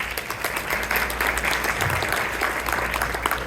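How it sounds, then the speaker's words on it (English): Applause from a crowd at an annual community dinner, a dense, even clapping that holds steady and close for the whole few seconds. "A big applause to her."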